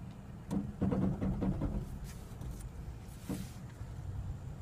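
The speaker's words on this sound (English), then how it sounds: "you're gonna hear the brakes when the ABS brakes a tire and puts the force on the other three" A Toyota Tacoma crawls over off-road terrain in crawl control while its ABS pulses the brakes, giving a cluster of short mechanical clunks and groans over a low vehicle rumble, then scattered quieter knocks.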